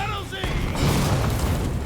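A heavy in-game blast in Rise of Ronin blows up a soldier: a loud booming explosion with a popping burst, followed by a rumbling tail, with a voice talking over the start.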